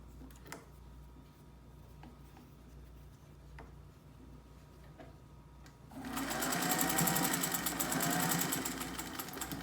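A vintage Singer 201-3 sewing machine first ticks slowly and faintly, then runs fast at high power, stitching through fabric with a loud, even mechanical whir that continues to the end.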